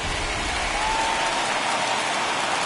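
A stadium crowd roars during a postseason baseball video game on PS4, a dense, steady wash of cheering and applause-like noise filling the whole stretch at high level, with no distinct voices.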